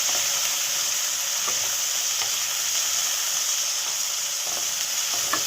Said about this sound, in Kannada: ಇದನ್ನು ಚೆನ್ನಾಗಿ ಈ ಥರ ಫ್ರೈ ಮಾಡ್ಕೋಬೇಕು